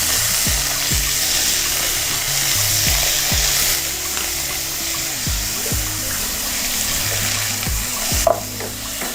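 Carrots go into a pan of sautéing vegetables for spiced snails with sautéed potatoes, a steady sizzle running throughout with repeated scraping stirs of a utensil over low heat, close and continuous, no voices.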